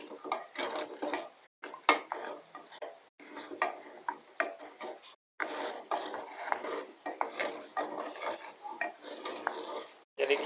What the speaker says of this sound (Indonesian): Jadi kita aduk biar rata.